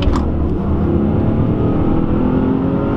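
A BMW E46 car accelerates hard from inside the cabin, a loud, steady engine drone and road rumble holding strong for a few seconds without speech.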